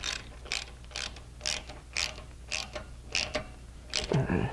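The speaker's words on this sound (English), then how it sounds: "Using a 17 millimeter socket to drive my bolt down into the thread base of the fuel pump stand that's stuck in there." A 17 mm socket on a ratchet driving a bolt into the fuel pump stand in a classic VW Beetle engine block, giving a steady series of about nine crisp ratchet clicks, close and fairly quiet, ending in a heavier scrape.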